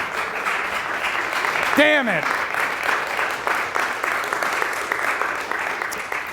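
A convention audience applauds after a talk, a dense steady wash of clapping throughout, with someone speaking briefly over it.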